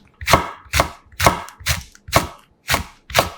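A knife chops halved red chili peppers on a cutting board in seven sharp, evenly spaced strikes, loud and close with nothing else heard.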